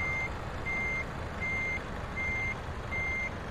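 A truck reverses in Euro Truck Simulator 2, its backup alarm sounding five evenly spaced beeps over a steady engine rumble.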